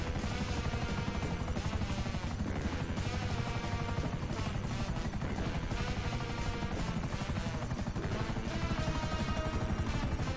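Helicopter flying in the video game GTA V, a constant loud rotor chop with rapid rhythmic thumping throughout, steady and unbroken, with no voices.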